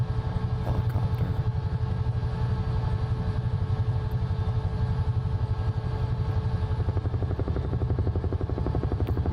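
Medical CalStar EC-135 twin-turbine helicopter in a flight simulator game, a steady rapid rotor pulsing over a low engine drone with faint turbine whine, continuous and alone.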